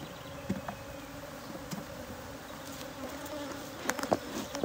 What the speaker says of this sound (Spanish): Así se comportan las colmenas cuando están sin la reina.